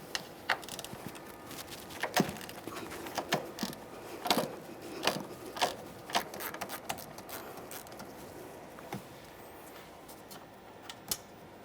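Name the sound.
ratcheting wrench removing strut mounting bolts on Nissan Altima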